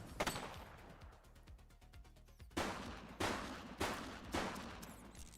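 Gunshots in the police game The Precinct, a handful of sharp, separate cracks spaced about a second apart, followed by a quick rattling burst, fairly close and standing out against a quiet background.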